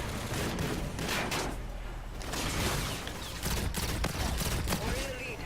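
Video game gun fired as a held-down burst, a dense run of rapid shots packed across several seconds, loud and close with some battle noise behind.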